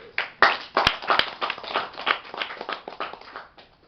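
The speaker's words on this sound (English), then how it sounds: "So I want to applaud for this." A small audience at a Toastmasters-style speaking club claps by hand, a short burst of uneven, close, distinct claps that gradually thins out.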